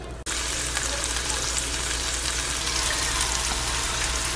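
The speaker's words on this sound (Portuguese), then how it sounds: "Primeiro eu vou colocar a calabresa" Diced calabresa sausage cubes hit a hot pan, giving a sudden start and then a dense, even, loud sizzle that holds steady throughout, close with no talk.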